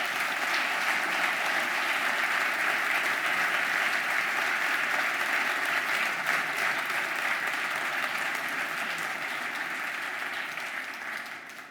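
An audience applauding players at a forum at Casa de América, with dense, sustained clapping that stays loud throughout and only starts to fade in the final seconds, with no voices over it.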